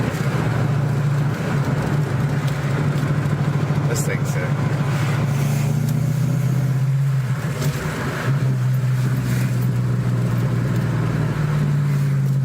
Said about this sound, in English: Burble tuning.